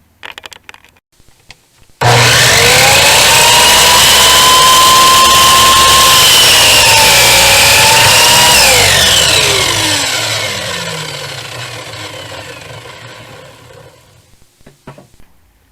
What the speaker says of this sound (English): let's go in and cut these on the chop saw